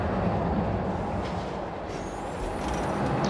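A ride train in Planet Coaster 2 rumbles along its track in a dense, continuous roar, loud and steady with no talking.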